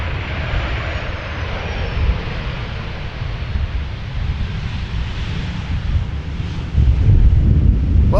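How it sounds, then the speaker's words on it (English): A Transavia airliner at Amsterdam Schiphol Airport gives off a continuous, loud, low engine roar mixed with wind buffeting the microphone, swelling louder near the end. "Here we see a classic Transavia, also an airplane very seldomly seen here in the Netherlands."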